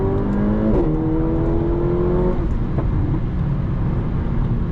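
A 2017 Mercedes A45 AMG with 423 hp, set to race mode, accelerates hard. The engine's loud, steady roar climbs in pitch through a gear change and stays close and continuous throughout.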